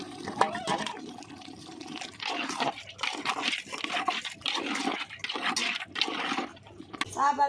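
Rice-washing water, from the second rinse of rice, being poured into a country chicken curry with ground red chilli and coriander, giving a gurgling, splashing stream of liquid close by, broken by brief clatters.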